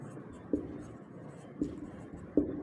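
Chalk or marker scratches across a classroom board in a physics lesson, a few short strokes with three sharper taps, under faint room noise.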